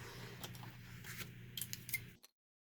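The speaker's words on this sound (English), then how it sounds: "now what I'm going to do is fussy cut along this to make that the border of my pocket." Scissors fussy cutting along a printed paper border for a binder pocket, giving soft close snips and paper rustle over low room hum before stopping abruptly.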